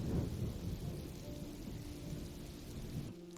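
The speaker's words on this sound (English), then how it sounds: "Let's wait out the rain in the booth." Steady rain pours in the video game Road 96, a dense, even wash of patter over a soft low rumble, fairly quiet and continuous with no voices.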